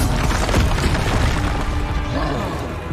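Spell blasts for Bombarda and Expelliarmus in a Hogwarts video game, dense booming crashes and bursts throughout, loud and close, with a voice shouting over them.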